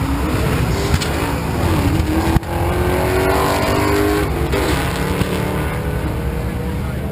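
A drag race car launches at the NMRA Bradenton Raceway in Florida, with a loud, continuous engine roar that fills the whole stretch close by and carries no talk.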